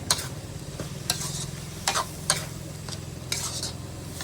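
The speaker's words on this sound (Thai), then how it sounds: "ผัดให้หอมๆหน่อยแล้วก็เอาขึ้นได้เลยนะครับผม" Food sizzles steadily in a hot pan while a utensil scrapes and clinks at intervals as it is stirred, close and fairly quiet; a Thai shrimp curry stir-fried with cumin leaves.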